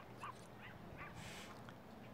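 A dog in the Lego Harry Potter video game whimpers and yips in a few short, fairly faint bursts over a steady background hum, with no talk.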